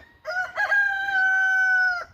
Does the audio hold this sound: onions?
no